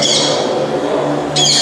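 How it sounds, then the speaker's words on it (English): Recorded bird chirping and squawking plays at the Pakistan Pavilion at Expo 2020 when a laser beam is touched, loud close calls bursting at the start and returning at the end. "So you guys, if you touch the laser, that's when you can hear the birds chirping away."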